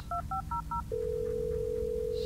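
Four quick touch-tone beeps dial a phone in the Blair Witch video game, then a steady, continuous ringing tone holds unbroken over a low background hum.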